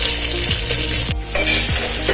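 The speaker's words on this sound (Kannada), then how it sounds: "ಸಿಡಿದ ನಂತರ ಜೀರಿಗೆ, ನಂತರ ಈರುಳ್ಳಿ ಮತ್ತೆ ಮೆಣಸಿನಹಣ್ಣನ್ನ ಹಾಕೋತಾ ಇದ್ದೀನಿ." Cumin, onion and chillies fry in a tempering of popped mustard seeds, making a loud, dense sizzle close by, with a few soft scrapes and clinks from the pan and no speech.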